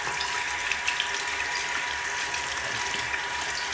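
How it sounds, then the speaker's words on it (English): Warm tap water runs steadily into a sink while a paintbrush is washed out under it, a close, continuous broadband rush with small splashy fluctuations and no talking. "I'm washing the brush out."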